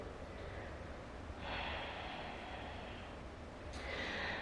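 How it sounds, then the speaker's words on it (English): Someone takes a deep breath during a yoga flow, a slow, airy inhale rising and then a breathy exhale, fairly faint and close, with no talk. "One more glorious breath here."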